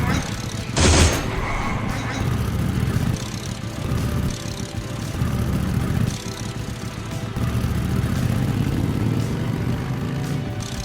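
30 cal machine gun rounds fired in short bursts in Ashes: Afterglow, rattling over a constant engine-like drone, with a sharper loud burst near the start and a voice talking throughout.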